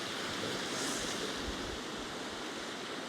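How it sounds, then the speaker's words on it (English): Ocean waves washing onto the shore on a cold early morning at the seaside, a steady broad roar of surf with light wind, continuous and fairly loud with no voices. "I'm here at the ocean"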